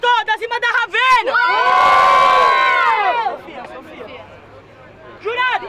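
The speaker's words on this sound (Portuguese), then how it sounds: "Barulho, mão pra cima pra quem gostou da rima da Ravena" A voice speaks briefly, then the crowd at the Batalha da Aldeia rap battle erupts in a loud, shrill cheer with high-pitched screams. The cheer fades into a murmur, and talk resumes at the end.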